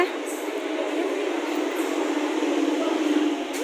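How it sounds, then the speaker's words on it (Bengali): A train pulls into a station with a steady low rumble and broadband rolling noise, fairly loud and continuous, with faint higher squeals drifting above. "সঙ্গে লাস্ট ট্রেনটা চলে এসছে"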